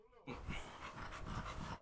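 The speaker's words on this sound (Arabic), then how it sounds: "يا جدعان كل مكان بقى مليان كلاب" Dogs pant and grumble close by indoors in a home with a bulldog, making a continuous breathy, rasping sound with low growly undertones for almost two seconds.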